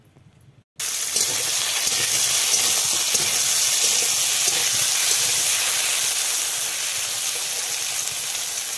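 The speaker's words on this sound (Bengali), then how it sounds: "আগে সর্ষের তেল দিয়ে ভেজে নিব বেগুনটাকে।" Eggplant coated with turmeric and salt hits hot mustard oil: after a near-silent start, a sudden loud sizzle bursts out and holds as a steady, close hiss.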